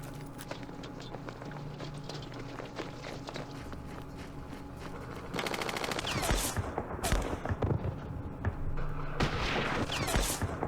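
In the Vietnam war game Campaign Series Vietnam, machine gun fire crackles in rapid bursts. It gets denser and louder in the second half over a constant background mix of battle noise.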